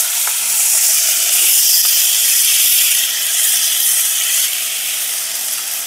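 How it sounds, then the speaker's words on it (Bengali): Cut, washed potatoes drop into hot mustard oil with whole cumin, setting off a loud, close, steady sizzling hiss that eases slightly toward the end, with no voices. "এবার দিয়ে দিচ্ছি কেটে রাখা আলুগুলো।"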